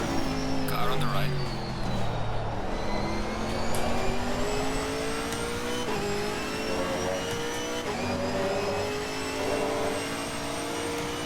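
A Camaro GT4 race car engine drones loudly through a race at Misano, its pitch climbing and dropping as the car accelerates and shifts. Someone talks over the engine.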